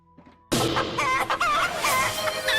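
Chicken song stream alert: loud clucking and crowing rooster sounds that burst in abruptly after a quiet moment and continue steadily to the end.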